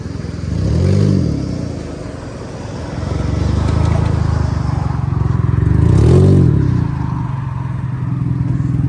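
A 2005 Pontiac Vibe with an automatic transmission and a 1.8-liter four-cylinder engine runs nearby. The motor hums steadily with a mid-pitched drone that swells and eases gently, under faint mechanical clatter.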